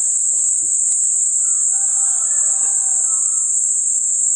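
A rooster crows faintly in the distance midway through, over a steady, piercing insect drone that never lets up.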